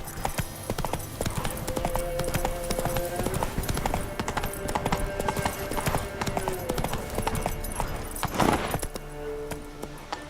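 Roach, a video-game horse, gallops in a rapid, continuous clip-clop of hooves, with faint jingling tack and a brief louder scuffle near the end.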